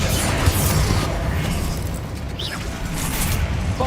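Confringo spell blasting in Hogwarts Legacy, a loud sustained fiery rumble with booms and crackling impacts and a short bright magical shimmer midway, all fairly dense and close.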